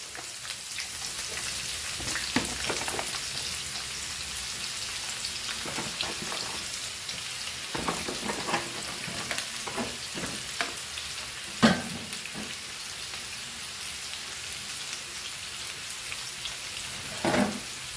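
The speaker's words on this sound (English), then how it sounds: "I'll fry my onion in this, and potatoes are getting fried over there" Onion and potatoes fry in oil for Goan fried rice, a steady crackling sizzle close by with scattered sharp pops and occasional scraping stirs.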